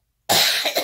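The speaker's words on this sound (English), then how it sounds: "it's still making me cough today" A single harsh cough from a man with a cold, loud and close, bursting out of silence and trailing into a couple of rougher follow-up hacks.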